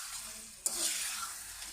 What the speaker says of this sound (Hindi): 1 मिनट के लिए भून लेंगे